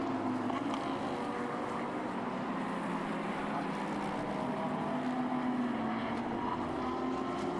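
A Ferrari 296 GT race car sweeps through the turns at Suzuka during a Fanatec GT Asia qualifying session, its engine giving a steady, continuous drone that holds at one level for the whole stretch.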